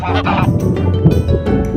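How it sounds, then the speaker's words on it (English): Geese at a pond honk in a loose, overlapping chorus of nasal calls close by, with bursts of noisy flapping or scuffling mixed in. "Here's all of our geese."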